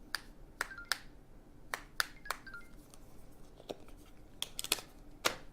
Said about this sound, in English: it snaps on over the back of the phone